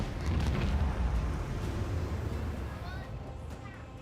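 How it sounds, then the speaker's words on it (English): Macro cannons fire in the Rogue Trader video game, a deep rumbling boom that swells loud and close, then rolls on as a long fading roar. "I want to hear the macro cannons roar."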